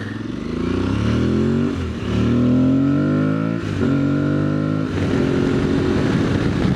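A nearby motorcycle engine drops through its gears, each shift marked by a quick rev blip before the pitch falls again, loud and continuous.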